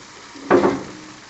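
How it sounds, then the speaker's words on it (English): A brief burst of sizzling as 40 hamburgers hit a Lang 36 smoker grill over pecan wood, swelling for about half a second then settling into a quieter hiss. "Listen to that sizzle."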